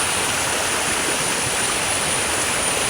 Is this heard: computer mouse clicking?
no